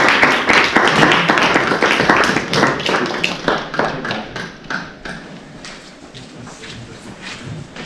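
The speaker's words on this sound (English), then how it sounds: "Give a round of applause for our team." A small audience at a university talk on virtual reality claps for a team, sharp, distinct hand claps that start busy and loud, then thin out into sparse, scattered claps.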